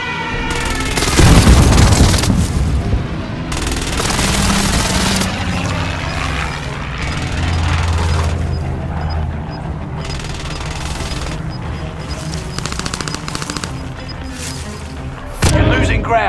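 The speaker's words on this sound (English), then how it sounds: "Allied precision airstrike incoming." Loud airstrike explosions in the World War II shooter Warzone Pacific, heavy booming blasts and rumbling impacts layered with gunfire, a large burst early and another sharp one near the end, with game voice chatter mixed in.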